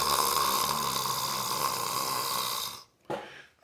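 A voice imitates loud, rasping snoring, one long continuous breathy drone that cuts off abruptly, followed by a short burst after a gap, close and alone with no other talk.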